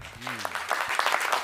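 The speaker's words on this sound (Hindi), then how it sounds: "बात समझ में आ रही तो एक बार ताली बजाओ" An audience claps at a comic poetry performance, a dense burst of applause swelling in after a short spoken voice and filling the rest of the brief moment.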